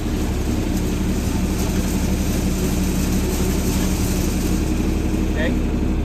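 A 1982 John Deere 4440 tractor engine runs steadily with its PTO engaged, a loud, constant low-pitched diesel drone that holds up close and unbroken throughout.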